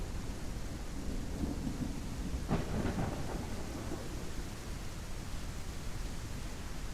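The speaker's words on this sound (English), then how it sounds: "Man, I'm ready for this storm to be over." Steady rain hisses throughout a thunderstorm in a survival video game, with a rolling thunder rumble swelling in the middle before fading back into the constant downpour.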